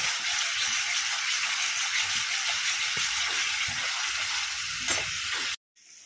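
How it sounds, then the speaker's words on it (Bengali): Onion masala sizzles and fries steadily in hot oil, a loud continuous crackle with occasional stirring scrapes, cutting off abruptly near the end. "দেখো পেঁয়াজের মশলাটা বেশ ভালো করে ভাজা হয়ে গেছে"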